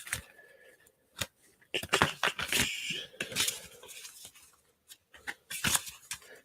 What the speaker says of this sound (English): I'm not very good at shuffling cards